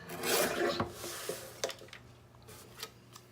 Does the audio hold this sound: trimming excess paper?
yes